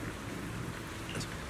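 Steady rain pouring down in Zenless Zone Zero, a continuous dense hiss of falling water with no talk over it.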